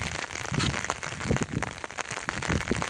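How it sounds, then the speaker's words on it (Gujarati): Steady heavy rain falls on a flooded farm field during the monsoon, a dense continuous patter with splashy bursts, close and loud. "અત્યારે સારો વરસાદ જ છે"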